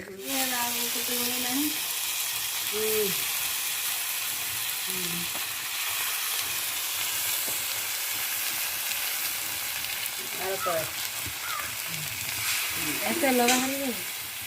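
Mustard-marinated desi river fish fries in hot oil, giving a steady faint sizzle throughout, with occasional voices talking over it.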